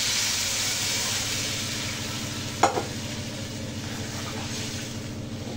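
Water goes into a pan of potato curry cooked with tomato and green chilli, raising a steady, loud, close hiss and sizzle that runs throughout, with one brief clink partway through.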